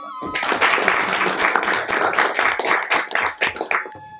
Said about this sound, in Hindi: तो इनके लिए एक जोरदार ताली हो जाए